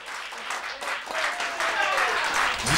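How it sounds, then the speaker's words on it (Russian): A concert audience in Moscow applauding a new trio, clapping that builds from moderate to fuller over a few seconds, with voices and whistle-like tones rising through the crowd. "Аплодисменты новому трио!"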